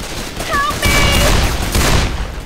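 Rapid bursts of gunfire in Left 4 Dead's Dark Carnival campaign, loud and close, with shouted voices and game effects over the shots.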